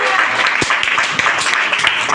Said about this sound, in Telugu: ఈ గొప్ప దేవుడికి ఒక్కసారి గట్టిగా చప్పట్లు కొట్టి